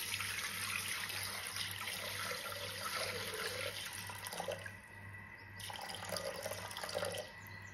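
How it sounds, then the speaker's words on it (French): Water pours steadily into a Thermomix bowl as 750 g is measured out for a jelly, giving a continuous close splashing rush that shifts in tone partway through and ends with a brief pause and a short final trickle. "Je vais mettre 750 g d'eau dans le bol."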